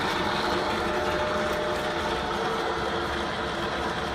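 A Bridgeport milling machine cuts aluminum with oil on the workpiece, giving a steady, dense mechanical whir and grinding rumble that runs unbroken at an even level, close by and with no talk.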